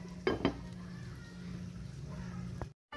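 A cooking pot of pork adobo with tomatoes is covered again with its lid, giving two quick close metallic clanks near the start, then a low steady simmering hiss.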